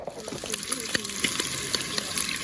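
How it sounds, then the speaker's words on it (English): Bacon sizzling on a small grill at a campsite, a steady hissing crackle with scattered pops, close and fairly quiet, with a voice speaking over it. "I got the bacon going"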